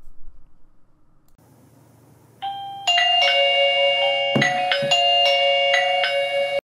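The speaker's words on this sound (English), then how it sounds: "then you're just going to want to push the button on the doorbell itself" A EUKI J10 wireless video doorbell chime rings out over a quiet background, a bright multi-tone ding-dong that sustains and rings on for several seconds.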